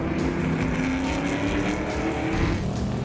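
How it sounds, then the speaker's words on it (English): A Ford GT40 race car spins out into a corner during a race, its engine a steady loud roar with dense broadband noise throughout, and no talk. "we now see Oliver DeLay spinning out into turn 7 after snatching first instead of third"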